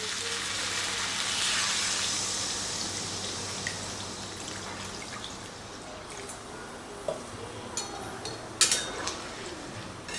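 Water poured into a pan of simmering jackfruit curry gives a broad rushing hiss and sizzle that swells early and then settles into a softer bubbling, with a few sharp clinks of utensils near the end.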